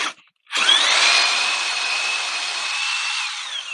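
A power drill bores into a wooden log outdoors, starting after a brief pause with a loud, close whir that grinds steadily for about three seconds before winding down, no talking.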